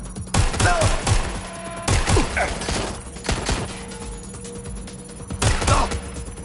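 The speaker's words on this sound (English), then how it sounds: "I'm taking fire!" Gunfire in the video game Watch Dogs Legion: loud, repeated bursts of shots and volleys in close succession, with heavy impacts through a combat scene.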